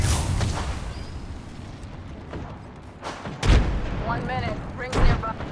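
Apex Legends gunfire, a few heavy booming shots that stand out from a busy backdrop of game noise, with a couple of short electronic character voice lines between them.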